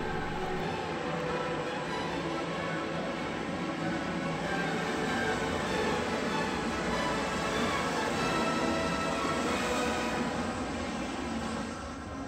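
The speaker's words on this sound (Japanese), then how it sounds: "乗ってきた電車をお見送りしましょう" A train departing from Toyokawa Station rumbles steadily past at close range, a broad continuous roar with rail noise that swells slightly and then begins to fade.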